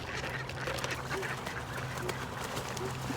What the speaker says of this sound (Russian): А утки устроили разборку.